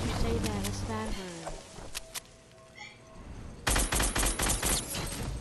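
Game gunfire from a Fortnite match breaks out in a loud rapid burst of shots near the end, after stretches of excited talk and shouting from players.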